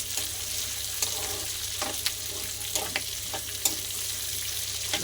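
Tempering of spices frying in hot oil for a crunchy poha snack mixture gives a steady, close sizzle, with a few scattered clicks and scrapes of stirring throughout.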